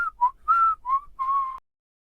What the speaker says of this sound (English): a boy was walking happily through the jungle, whistling.